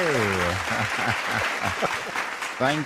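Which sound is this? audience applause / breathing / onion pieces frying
audience applause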